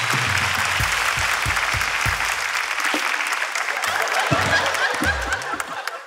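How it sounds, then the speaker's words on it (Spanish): An audience bursts into sustained applause, dense clapping with a few chuckles mixed in, fading slightly toward the end. "un fuerte aplauso para comenzar con esta huevada"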